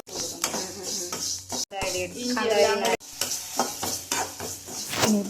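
Pickle cooking in a pan of coconut oil on a stove, with steady sizzling and frying broken by repeated scraping stirs of a spoon against the pan, close and fairly loud.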